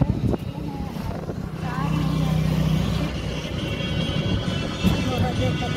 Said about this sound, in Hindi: टुक टुक गाड़ी, तो गाड़ी आ गई, देखिए आप लोग